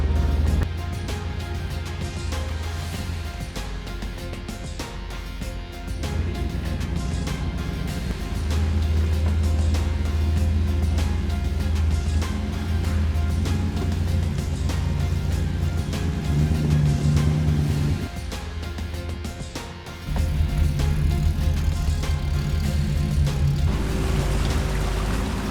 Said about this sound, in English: Sounds just like a speedboat once the water gets up over the exhaust pipe.